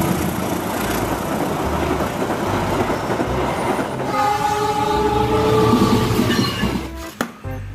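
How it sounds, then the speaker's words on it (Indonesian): A CC206 locomotive hauling a train rumbles past loud and close, heavy wheels and engine roar building steadily, then a long horn blast sounds near the end before the noise briefly cuts away. "Tipe lokomotif nih, CC langsung satu."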